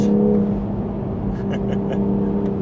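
Toyota GR Supra MK5 Final Edition on a race track, with a few faint exhaust pops crackling briefly over a steady engine drone inside the cabin.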